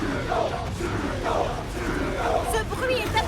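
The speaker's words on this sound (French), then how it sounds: "Le chèque veut que la foule de supporters fasse encore plus de bruit." An animated football crowd of supporters roaring and cheering loudly in a stadium, a dense babble of shouting voices swelling and falling, with sharp whistles or shrieks toward the end.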